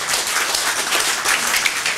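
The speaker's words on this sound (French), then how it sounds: "On peut applaudir pour la gloire de Dieu maintenant aussi." A church congregation applauds steadily, a dense crowd of clapping hands, moderately loud and continuous throughout, with no talking.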